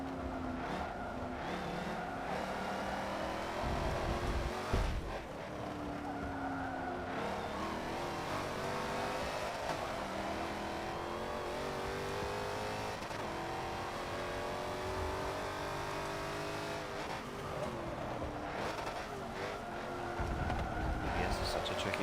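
A Dodge Viper race car in Forza 7 revs and accelerates continuously, its engine note climbing and dropping through gear changes with occasional tire squeal, loud and steady, under a commentator talking.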